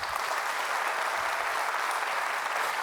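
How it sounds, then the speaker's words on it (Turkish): Steady studio audience applause on the Turkish quiz show Who Wants to Be a Millionaire, a dense wash of clapping, even in level with no voices over it. "yanılmıyorsam güçlü bir alkış bekliyorum"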